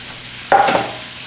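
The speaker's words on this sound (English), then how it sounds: "Now we're going to throw our veggies in. We got onions. Green peppers." Onions and green peppers go into a hot pan, giving a brief sizzle and a quick scrape of stirring. It is close and lasts under a second, over a quiet background.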